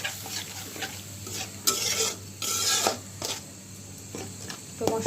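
Spices with chili powder, salt and a splash of water fry in a pan, a close hissing sizzle broken by repeated scraping stirs of a utensil.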